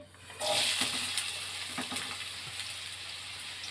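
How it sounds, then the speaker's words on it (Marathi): Two chopped onions drop into hot oil with a sudden loud sizzle that stays up close and slowly fades to a steady frying crackle, with a few stirring clicks. "त्यामध्ये टाकूया 2 चिरलेले कांदे."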